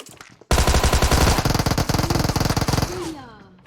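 Dense automatic gunfire from PUBG Mobile erupts after a brief quiet start, rapid loud bursts sustained for over two seconds before tapering into a ringing fade.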